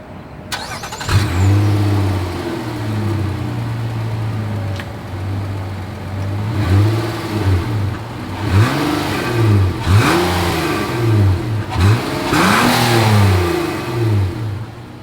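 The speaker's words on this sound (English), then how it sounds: "As always, here is that exhaust clip." A 2024 Nissan Murano SUV's exhaust starts and settles into a steady idle, then is revved repeatedly in rising and falling swells, loud and close, with no speech.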